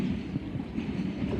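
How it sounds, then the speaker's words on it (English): A class 455 South Western Railway train rolls into Wimbledon station, a steady close rumble with rhythmic wheel clatter and no talk. "Arriving in now is the 10:52 South Western Railway service to Hampton Court,"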